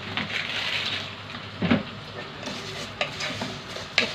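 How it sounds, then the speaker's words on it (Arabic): Vermicelli stirred and frying in ghee and oil in a pot, giving a steady soft sizzle with scraping stir strokes and a few utensil clinks, close and alone. "نحمرها بقى، خدت اللون الذهبي الجميل اهي"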